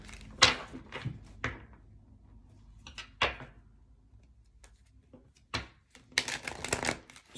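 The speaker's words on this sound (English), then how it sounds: "All right, I'm gonna pull an oracle card." Deck of oracle cards being shuffled in a quiet room, several separate riffling bursts and soft slaps spaced out over a few seconds, ending in a denser flurry.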